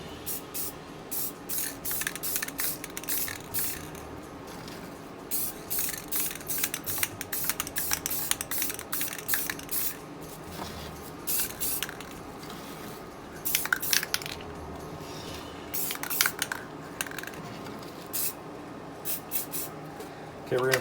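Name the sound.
spray paint can spraying clear coat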